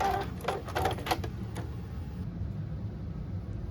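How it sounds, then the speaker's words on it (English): A sewing machine runs a straight stitch along the center back seam of a panty's upper back panels, with rapid mechanical clatter that eases into a steady hum, close and alone. "Now we're going to sew the center back seam of the upper back panels."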